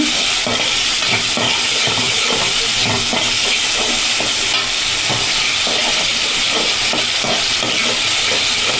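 Food sizzles and hisses while being sautéed in a pan, a loud continuous frying crackle with faint stirring scrapes throughout.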